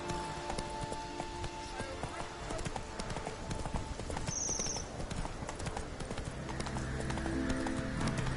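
Roach the horse gallops in The Witcher 3, hooves clip-clopping in a steady rapid rhythm throughout, with a brief whinny and a spoken line over game ambience.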